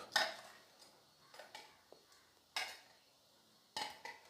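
Kashmiri chili masala is mixed into raw beef in a bowl, giving a few quiet, sharp scrapes and clinks of a utensil against the dish, spaced apart with soft wet stirring between them.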